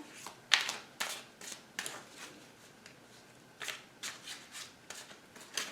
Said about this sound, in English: Shuffle a couple more times here.